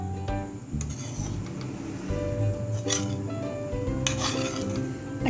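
A spoon scrapes and rasps against a pan while elbow noodles are stirred into fried keema, giving steady metallic rubbing with a few sharper clinks, close and without talk.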